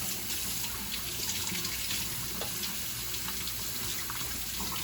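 Cool tap water runs steadily into a kitchen sink while crab legs are washed, a constant soft hiss and splash with no talk.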